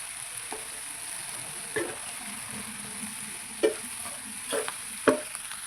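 A spoon stirs chilli powder in a pan for paneer butter masala, a faint steady sizzle broken by a few soft scraping clicks and light knocks.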